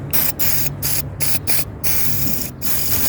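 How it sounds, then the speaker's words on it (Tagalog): WD-40 sprayed onto bolts while a car wiper arm is off for repainting: several short hissing aerosol bursts in quick, uneven succession, close and fairly loud, with no talking. "lagyan muna natin ng WD-40 itong mga bolt bago natin ibalik yung wiper wiper arm spray lang muna natin"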